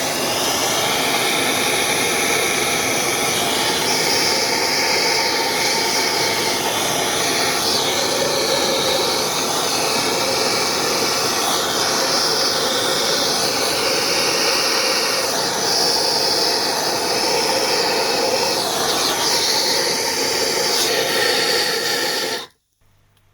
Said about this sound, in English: So I resorted to the blowtorch.